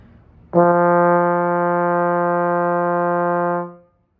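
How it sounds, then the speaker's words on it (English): A trombone holds a steady concert F in the staff, one clean, rich note sustained for about three seconds with an even tone before fading out, solo and close. "we're first going to play a concert F in the staff"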